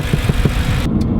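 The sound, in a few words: BMW M3 exhaust while cruising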